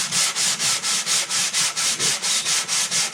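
Random orbital sander working over the body of an OM acoustic guitar during finish prep, a steady loud whirring grind that pulses in a quick regular rhythm of about four strokes per second, with no voices.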